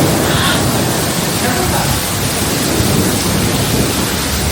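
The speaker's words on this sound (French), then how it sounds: "Mais il est pas loin parce qu'il vient juste d'éclater là." A thunderstorm breaking over a stone wash house in northern Spain: a loud, continuous roar of rain and rumbling thunder fills the whole stretch, steady and close with no clear pauses.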